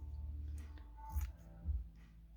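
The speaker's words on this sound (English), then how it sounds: "I'm just going to cut these up in little" Scissors snipping vintage-dyed fabric embellishment pieces for craft tags, a few soft quiet cuts close by with brief pauses between them.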